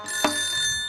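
A mobile phone rings from a missed call, a bright steady electronic tone sounding alone after a brief sharp click.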